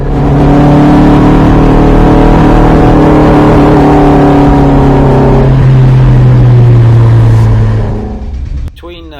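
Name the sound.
Marcos race car engine running rough on track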